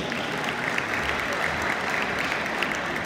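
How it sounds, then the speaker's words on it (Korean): An audience at the opening ceremony of a national Yongmudo martial arts competition claps steadily, a dense, even patter of many hands filling the hall without a break. "지금 이 자리에 계시지는 않지만 감사의 박수 한번 부탁드리겠습니다."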